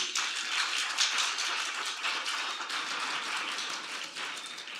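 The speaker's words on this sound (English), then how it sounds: "Let's give them a clap offering" Continuous clapping from a group fills the space, a dense, even patter of many hands at moderate volume, heard from a little distance.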